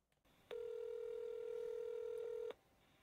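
A single steady telephone keypad tone sounds clearly for about two seconds against quiet background hiss, placed while dialing a prank call.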